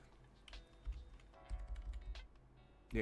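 Fast, rapid clicking of speed typing on a computer keyboard, with dense bursts of keystrokes and soft low thumps, close and quiet with no voices.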